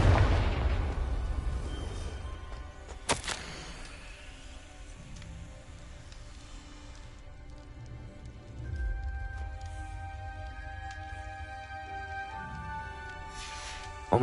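A Confringo spell explosion in a Wizarding World video game, a burst at the start that fades into a rumbling tail, followed by a quieter magical whoosh and tonal game sounds.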